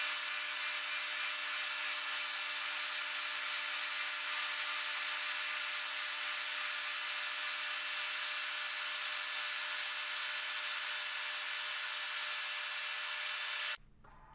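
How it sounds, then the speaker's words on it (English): Edge sander grinding the rim of an MDF disc in a workshop, a steady high-pitched whirring hiss that runs without a break until the motor cuts off near the end. "I prefer to use my edge sander"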